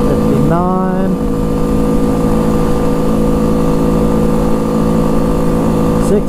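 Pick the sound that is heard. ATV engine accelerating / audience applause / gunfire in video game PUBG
ATV engine accelerating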